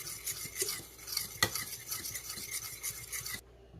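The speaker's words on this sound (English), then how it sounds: "Give that a quick whisk." A quick whisk through ingredients in a bowl for keto cookie dough, rapid close scraping and clinking strokes with one sharper knock, quiet and without speech.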